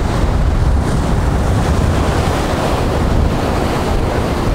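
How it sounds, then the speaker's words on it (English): Ocean water surges through a sea cave beneath a rock, a continuous loud roar of churning surf with rough wind buffeting close to the microphone throughout. "So the water comes through here"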